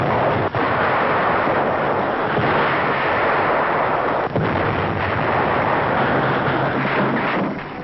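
WWII tanks advance and fire in a 1945 newsreel, with a dense rumbling roar of engines and battle noise running throughout and sharp blasts breaking through at a couple of points, in muffled, narrow-band archival sound.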